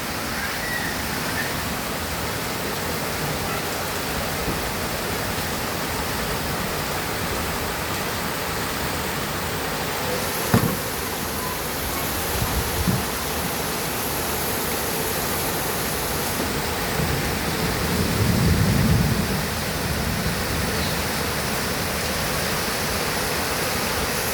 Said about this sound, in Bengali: তো বাতাসে বৃষ্টিটা এদিকে চলে আসছে।